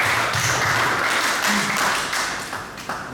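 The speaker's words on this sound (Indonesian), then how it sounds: "Tepuk tangan sekali lagi buat Tuhan Yesus yang baik" Congregation applauding for Jesus during an Indonesian church service, a steady broad patter of clapping that holds for a few seconds and then gradually softens, with faint voices mixed in.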